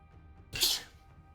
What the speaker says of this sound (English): I hope that sneeze wasn't audible in the stream